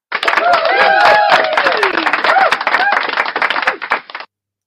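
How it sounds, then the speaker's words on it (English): A round of applause at a livestreamed show, with dense rapid clapping filling the clip alongside voices talking and shouting over it, then cutting off abruptly. "round of applause for First Amendment shenanigans"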